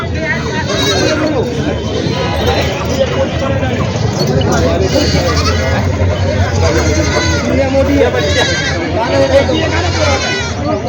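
Beetal goats bleating at a busy rural goat market, the calls steady and mixed into dense crowd chatter and a constant low hum throughout.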